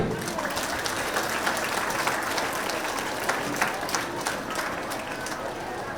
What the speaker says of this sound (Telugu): ఇక్కడ ఒకసారి సార్ గట్టి క్లాప్స్ అండి